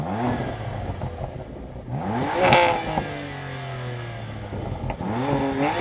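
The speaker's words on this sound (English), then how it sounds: "Go on, rev up that BMW." A BMW M2 CS engine revs up close and loud in rising sweeps, holds at high rpm, falls back, then climbs again toward the end with no soft limiter.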